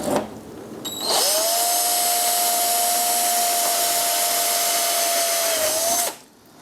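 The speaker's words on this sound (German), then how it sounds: "Dafür drehe ich das Teil jetzt, damit ich mir hier nicht in den Tisch bohre." A power drill bores through an RN Pro holder on a table, giving a single sustained high whine for about five seconds after a brief start-up, then spinning down.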